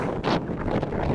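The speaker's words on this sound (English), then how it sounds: "The wind is pretty strong here." Strong wind, gusting to 30 mph at a high school baseball field, buffets the microphone in rough, roaring gusts, with a brief louder blast partway through.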